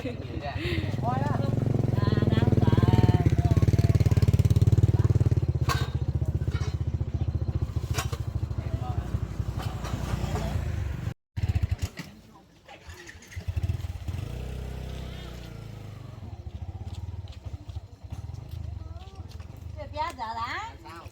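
A motorcycle engine rumbles steadily and loudly close by on a farm for roughly the first ten seconds, then quiets, with people talking over it throughout.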